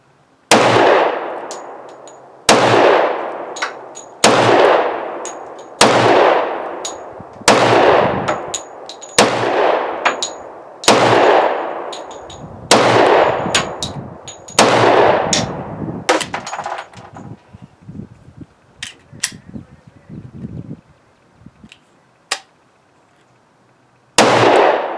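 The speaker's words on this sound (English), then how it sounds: "So here's another mag. There's only 10 left. So we'll see how these fire." A Smith & Wesson 10mm pistol fires a magazine of about ten loud, sharp shots at a steady pace, each ringing out with a long echo. Rattling handling noise follows, then one more shot at the end.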